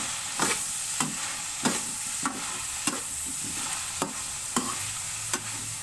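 Okra stir-fries in a pan for pakbet: a constant sizzle with about ten regular, clicking scrapes of a utensil against the pan, close and clear with no talking.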